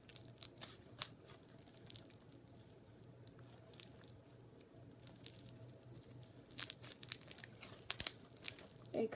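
Crunchy slime full of beads being squished and pressed by hand, faint irregular crackles and crinkles coming in scattered bursts, close and quiet with no talk.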